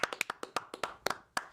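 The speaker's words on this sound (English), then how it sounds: "Clap it up for him." A few people clap, about a dozen sharp, close claps in quick irregular succession over a second and a half, fairly quiet overall.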